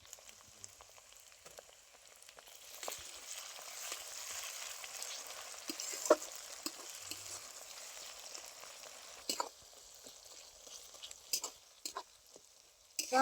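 Chopped tomato frying with onion, ginger and garlic paste in a pan, a soft steady sizzle with occasional louder scrapes and stirring clatters, fairly quiet throughout.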